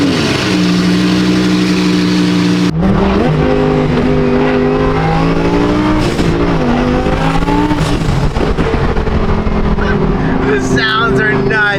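Rebuilt BMW M4 engine revving hard and accelerating up through the gears, loud and close, with a brief drop between pulls and tire noise near the end.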